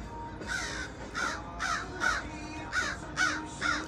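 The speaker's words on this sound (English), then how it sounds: "See, that's a crow." Crow cawing outdoors, seven harsh caws in a fairly even rhythm, moderately near and clear over faint background ambience.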